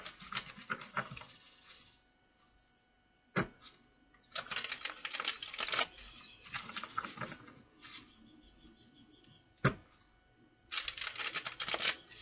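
Bursts of papery riffling and flicking as playing cards are shuffled, several separate shuffles with quiet pauses between, close by, with faint scuffs in the gaps.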